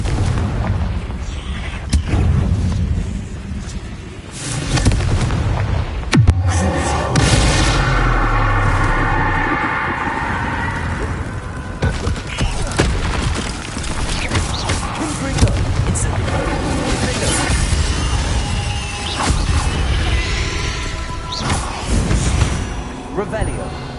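Confringo explosion spell cast in a Hogwarts video game: loud booming blasts and bursts over busy game effects and music, with several distinct impacts spread through the stretch and a voice speaking at times.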